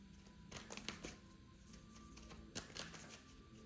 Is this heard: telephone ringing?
no